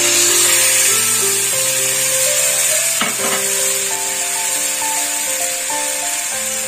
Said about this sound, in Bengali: এবার আমি এর মধ্যে এই সর্ষে বাটাটা দিয়ে দেবো